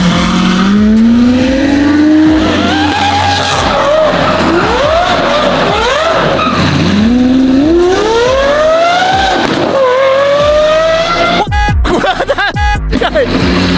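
A Lamborghini SVJ fitted with a Gintani F1 exhaust and flame tune revs hard on a Los Angeles street, its loud engine note sweeping up and down repeatedly before sharp crackles and pops near the end.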